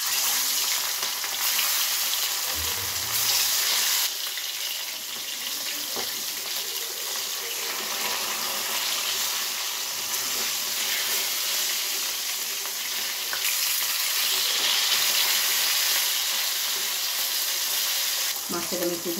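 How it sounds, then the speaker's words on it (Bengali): Katla fish pieces frying in hot mustard oil in a kadai give a steady, loud sizzle and hiss that runs throughout, with small surges and a few soft utensil knocks. "এখন আমি মাছগুলো তেলের মধ্যে দেব"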